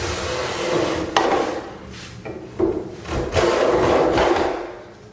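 A hand plane shaves wood from a door edge to form a bevel, a few scraping strokes with sharp starts and rough rasping texture, close by with no talking.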